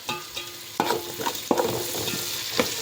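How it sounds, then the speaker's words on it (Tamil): Crushed spices and curry leaves sauté in a pan for South Indian fish kulambu, a steady sizzle broken by several sharp spatula scrapes and stirs at irregular intervals, close and moderately loud. "நல்லா வதக்கி விட்டு நல்லா வதக்கி கொடுங்க"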